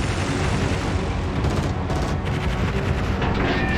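Rapid anti-aircraft gunfire rattles steadily from a warship in the naval battle game World of Warships, a dense continuous barrage of overlapping shots with no pauses.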